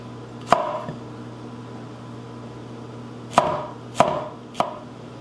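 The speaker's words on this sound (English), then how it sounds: "so you cut off both ends, and because they are actually not hot, just cut them up to whatever thickness you like" A knife cuts pimento peppers on a board with four sharp, close thunks: one single chop, then a pause, then three chops in quick succession, over a low steady hum.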